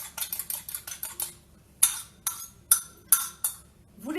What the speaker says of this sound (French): vous battez vos œufs